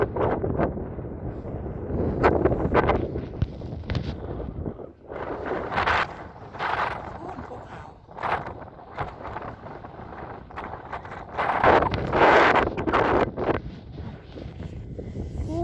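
Cool wind at the seaside buffets the microphone in strong, uneven gusts, rumbling low and loud with bursts that rise and fall over a constant blustery roar.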